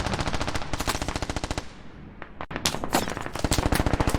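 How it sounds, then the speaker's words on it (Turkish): Rapid automatic gunfire in a Squad-style multiplayer combat game, loud and close in dense bursts, pausing briefly before heavier firing resumes. "Vuruyor yine."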